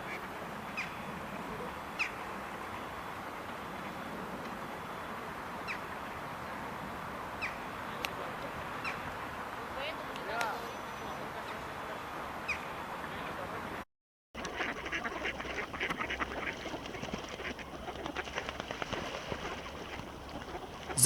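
Wild mallard ducks quack now and then, with occasional crow calls among them, against a steady outdoor background with faint distant voices; the sound shifts partway through after a brief gap.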